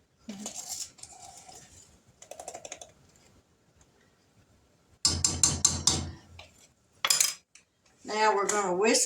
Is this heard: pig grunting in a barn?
no